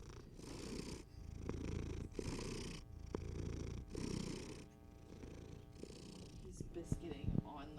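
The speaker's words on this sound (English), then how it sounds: "His purrs." A cat purrs in low, rhythmic rumbling pulses of roughly even length, close and soft, while people talk over it.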